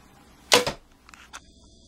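A Bearpaw self-nock bamboo arrow leaves a Montana Bows Toelke Troll two-piece take-down recurve with one sharp, loud release snap, followed by a few faint clicks.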